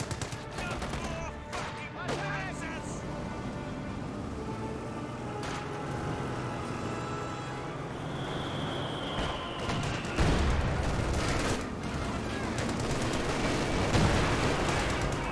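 Sustained rifle squad and Greyhound armored car gunfire in Company of Heroes 2, a dense wash of overlapping shots with a few sharper bursts near the end, steady and fairly loud throughout.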